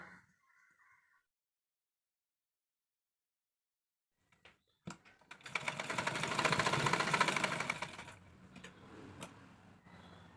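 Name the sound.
sewing machine double-stitching along a sleeve line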